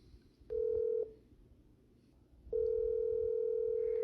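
Telephone keypad dialing tones: two clean electronic beeps, the first short and the second held longer, separated by a quiet gap, fairly faint and alone with no voices.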